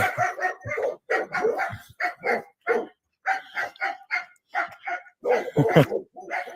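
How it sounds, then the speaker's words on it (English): Several dogs barking loudly in a late-night alley, sharp repeated barks and yips in quick bursts with short pauses, close and prominent, a few whimpers mixed in. "it was probably the same type of dogs barking. It was loud like that."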